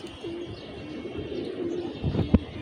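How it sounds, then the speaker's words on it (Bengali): Tournament racing pigeon arriving on a Dhaka rooftop during a 41 km five-direction race, soft repeated cooing and chirps close by, ending in a brief louder flutter or knock. "মাশাআল্লাহ, এই যে এই কবুতরটি আসলো"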